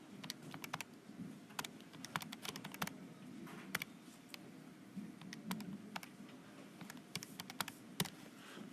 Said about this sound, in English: I'm going to use the answer key on my calculator